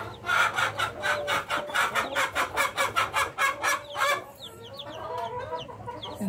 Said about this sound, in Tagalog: yung na-breed natin mga Kabi Farming na Rhode Island chicks